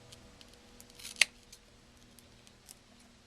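Scissors snipping small pieces of hook Velcro, a single quiet crisp snip standing out briefly amid faint background clicks in a quiet room.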